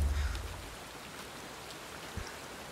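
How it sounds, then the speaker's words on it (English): Steady rain falls in the video game Blacktail: a soft, even hiss that holds throughout, with a low thump at the very start and no talking. "So it started to rain"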